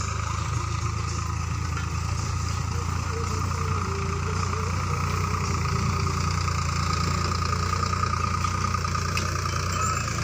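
A small tractor brought in for ploughing a field idles with a steady, droning engine rumble that stays even and close throughout, with faint voices under it.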